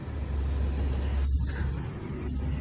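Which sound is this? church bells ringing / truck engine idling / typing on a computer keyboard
truck engine idling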